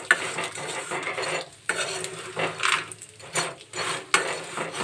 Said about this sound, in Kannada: ಒಂದು 2 ರಿಂದ 3 ನಿಮಿಷಗಳ ಕಾಲ ಚೆನ್ನಾಗಿ ಫ್ರೈ ಮಾಡ್ಕೊಳ್ಳಿ